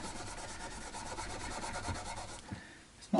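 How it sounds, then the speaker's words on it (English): A cloth soaked in solvent is rubbed along the fingerboard of an Epiphone jumbo acoustic guitar, making a soft, close, repeated rubbing scrub, ending in a brief louder knock. "So I'm just giving the fingerboard a bit of a solvent rub down"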